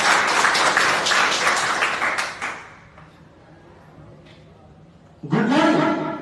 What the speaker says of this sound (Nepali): उहाँको लागि जोरदार ताली